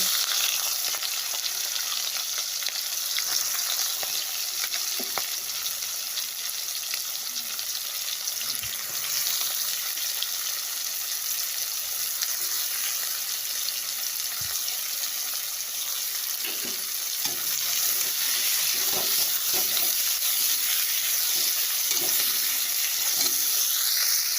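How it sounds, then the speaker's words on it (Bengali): Onions frying in a pan for a dried-fish chutney, a steady bright sizzle running throughout with occasional stirring scrapes and clicks, close and continuous with no voices. "পেঁয়াজগুলো আমি ভালো করে লাল লাল করে ভেজে নিয়েছি"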